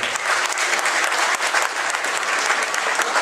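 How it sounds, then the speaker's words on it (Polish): Audience applause at a charity fundraiser event for the Great Orchestra of Christmas Charity in Stanisławów, steady dense clapping from a crowd throughout, loud and close with no break. "proszę o brawa dla pani Eli. Mocno brawa"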